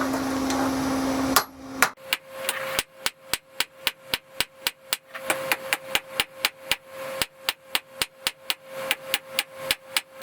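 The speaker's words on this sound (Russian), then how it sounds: "Все, хвостовик начинаем ковать." A hammer strikes hot steel while forging a knife tang, around twenty sharp ringing blows in a steady rhythm, loud and close. A short burst of other workshop noise comes first and no voice is heard.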